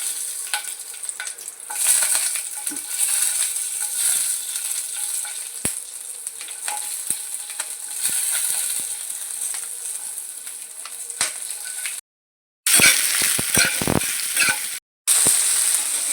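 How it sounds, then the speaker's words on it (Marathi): Green chillies roasting in oil in a pan, a close, bright sizzling crackle with frequent scraping stirs, briefly cut off twice near the end. "आता आपण ठेच्याच्या मिरच्या भाजत आहोत त्यात थोडं तेल टाकूयात"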